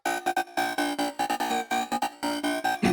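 Bright, buzzy FM psytrance lead synth built in Serum 2, playing a fast choppy pattern of short repeated notes with rich harmonics. Random autopan shifts the notes left and right, with no voices.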